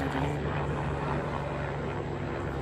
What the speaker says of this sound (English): The helicopter's like right there at the same height as us.